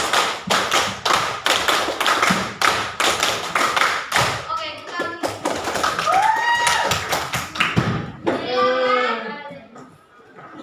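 A high school Islamic religious education class claps together in a fixed rhythm pattern, sharp loud claps in quick regular sets for about four seconds, followed by a teacher speaking and children's voices.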